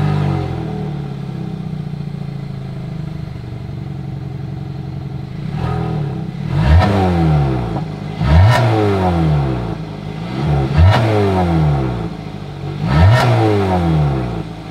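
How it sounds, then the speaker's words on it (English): A 2022 Hyundai Tucson SUV idles with a steady exhaust drone, then gets four quick throttle blips, each rising and falling in pitch, close to the tailpipe and loud. "As always, here is that exhaust clip."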